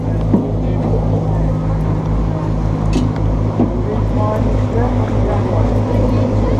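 A steady low engine drone rumbles continuously, like a boat motor idling nearby, with faint voices in the background, while passengers wait to board a boat to Lundy Island.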